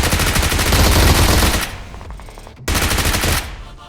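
Loud, rapid automatic gunfire in the BGMI PUBG Mobile video game, sustained bursts that break off briefly and then resume.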